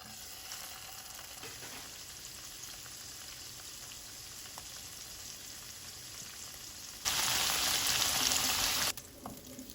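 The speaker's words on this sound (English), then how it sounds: "I have started frying this paneer in a very little oil" Steady, soft sizzling of paneer frying in a little oil in a pan, with a louder crackling burst for a couple of seconds near the end.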